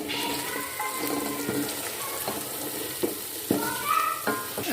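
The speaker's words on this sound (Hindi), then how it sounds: "अब इसमें हम गोश्त डालेंगे, इसको हम फ्राई कर लेंगे।" Beef sizzling and frying in a pot with mixed spices for haleem, a steady hiss with occasional stirring clatters, close and fairly loud, no talk.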